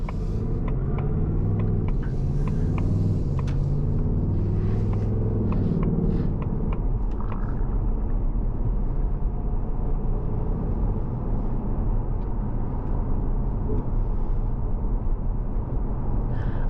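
A Ford S650 Mustang with the non-active exhaust gives a steady, deep exhaust rumble heard from inside the car, with a brief rise in engine note early on and no talk.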